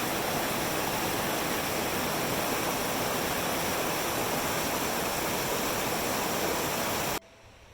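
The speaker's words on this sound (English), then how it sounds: "It's got this awesome stream, perfect water" Mountain stream rushes beside a campsite on the Spider Gap trail, a steady, dense, loud broadband flow that cuts off abruptly near the end.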